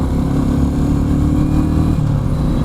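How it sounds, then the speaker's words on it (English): Royal Enfield Meteor 350 motorcycle riding on a highway, its steady mid-pitched engine drone loud and continuous, with a brief change in tone near the end as it shifts into third gear with the heel shifter. "Let's try to shift into third gear using the heel shifter."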